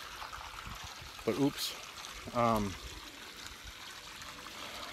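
Water overflowing from a trough and splashing onto the ground near chickens, a soft continuous trickle running under brief spoken remarks.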